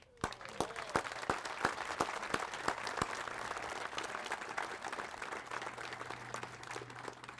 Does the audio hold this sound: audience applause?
yes